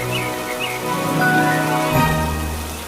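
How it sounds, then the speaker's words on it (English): Steady rain falling through a rainy-season scene, heard as a continuous wash of patter mixed with soft tonal background sounds, moderately loud, with no voices. "Look, it's raining."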